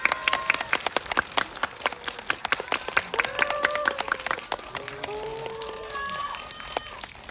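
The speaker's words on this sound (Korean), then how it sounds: "큰 박수 부탁드립니다." An audience claps throughout a guest-visit screening event in a Lotte Cinema World Tower auditorium, with sharp, dense hand claps rising and falling over several seconds while faint voices and whistle-like tones drift through.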